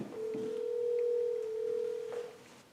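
Outgoing telephone call: a single steady ringback tone of about two seconds, faint and alone, with a small click at its start and end.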